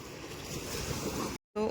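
Ocean waves washing up on a beach where the sea has pushed far inland: a brief, loud, rushing surf roar mixed with wind noise, cut by a short silent break before the roar resumes.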